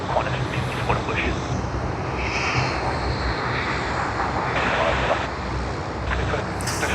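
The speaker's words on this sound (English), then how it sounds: "finally we are getting the Boeing 747-8 departure of UPS Sydney to Singapore" UPS Boeing 747-8 departing Sydney Airport for Singapore, a loud, sustained jet engine roar with a hissing, wind-like rush, while a person talks over it.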